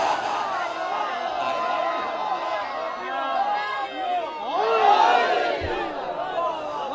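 Shia congregation at a Safar majlis in Arif Wala chanting slogans in unison, a loud massed roar of voices rising and falling, swelling toward the later part.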